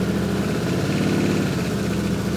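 A Yamaha Tenere 700 motorcycle engine idles just after an oil change, a steady, close, throbbing low rumble with even pulses and no talking.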